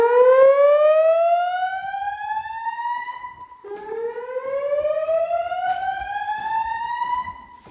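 A fire alarm siren wails in two long rising sweeps, loud and close, the second starting after a brief drop.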